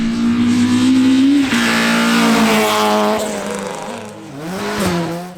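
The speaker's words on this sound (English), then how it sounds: "his well sorted little Peugeot 206 are flying over the opener" A Peugeot 206 rally car at speed on the opening stage of a Nutts Corner winter rally series round, its engine loud and close, holding high revs, then easing off and picking up again.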